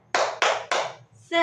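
A class of schoolchildren does a rhythmic clapping cheer at a primary school fiqh teaching session: three loud, evenly spaced bursts of clapping, ending in a short group shout.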